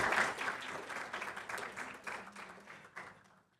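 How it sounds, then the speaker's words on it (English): Audience at a student showcase gives a round of applause, steady clapping that starts full and gradually fades away over a few seconds. "Another round of applause."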